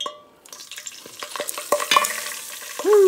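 A cup of flour is stirred into a hot pan to start a dark roux for seafood gumbo, with repeated close scraping strokes over a soft sizzle and a brief vocal exclamation at the end.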